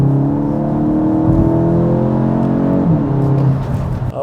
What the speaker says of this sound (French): Ayrton va rouler un petit peu là